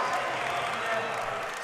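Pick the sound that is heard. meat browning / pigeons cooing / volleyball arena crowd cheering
volleyball arena crowd cheering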